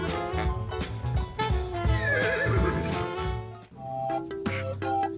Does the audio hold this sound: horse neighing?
yes